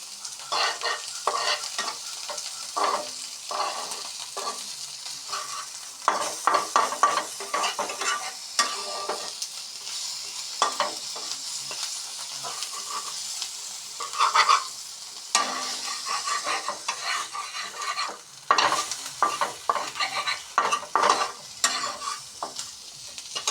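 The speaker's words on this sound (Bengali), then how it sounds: "পেঁয়াজ রসুন মাছগুলি ঠিকভাবে ভাজা হয়ে গেল" Dried chandana fish fries with onion, garlic, chili powder and turmeric in a pan, a steady close sizzle broken by repeated scraping stir strokes, with no talking.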